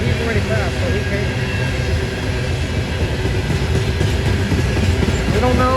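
A Norfolk Southern coal train bound for Lambert's Point Yard rolls past close by with a loud, continuous rumble and clatter of wheels on rails, while people talk over it.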